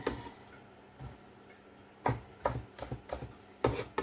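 A kitchen knife taps sharply on a cutting board in a few spaced strokes, then quicker clusters, slicing celeriac, fennel and apple into thin julienne strips, quiet and close with no talking.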